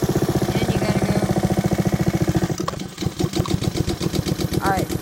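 A Honda HRR216 lawn mower engine runs at low throttle, a steady close drone with rapid regular pulsing, briefly dipping before it resumes. Faint bits of voice surface near the end.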